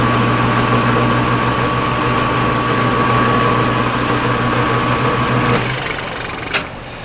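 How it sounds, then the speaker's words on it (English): A metal lathe runs with a steady, close motor whine and hum for several seconds before it shuts off abruptly. A few sharp clicks of the controls follow in the quieter tail. "Because obviously we're going to knurl this here in just a second."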